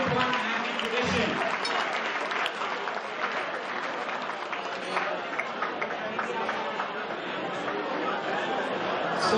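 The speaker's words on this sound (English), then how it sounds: "Can we get another rousing round of applause for the uniform team?" Banquet audience applause for a uniform team, sustained clapping mixed with crowd chatter and voices, fairly loud and steady throughout.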